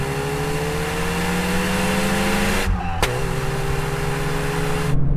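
Volkswagen Golf GTI cars from different generations accelerating hard from a second-gear rolling start in a half-mile race. The engine note rises steadily and loudly, breaks off sharply at a gear change, then climbs again close to the microphone.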